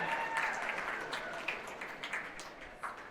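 Audience clapping in a school auditorium at a holiday jazz band concert, a moderate wash of applause that thins and fades over a few seconds without talk.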